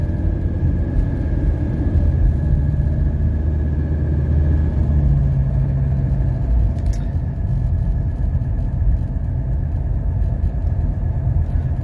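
A 1985 Mercedes 300CD engine rumbles steadily from inside the car on a test drive, a low, continuous drone with road noise and no talking.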